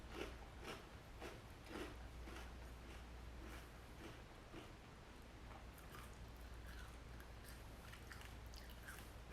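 Crunchy Magic Spoon cereal being chewed up close, a faint run of soft crunches repeating steadily with no talking.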